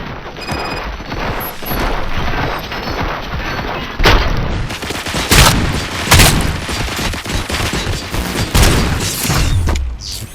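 Heavy gunfire and booming blasts from the RoboCop Rogue City video game, loud and dense bursts running throughout with several sharp, stronger impacts standing out.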